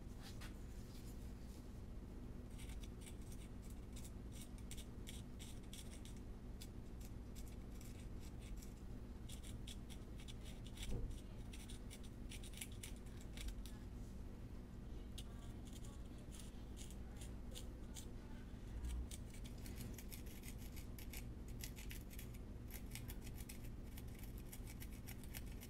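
Scraping the coloring off the teeth of a painted face cup makes a quiet, continuous scratching and rubbing with many small strokes. A faint hum sits underneath.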